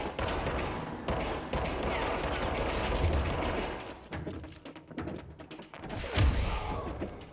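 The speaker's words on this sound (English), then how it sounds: "There's a bunch of fireworks going off." Fireworks bursting in the video game Control make a dense, continuous crackling barrage of pops and booms, fairly loud, with a few heavier thumps and no talking.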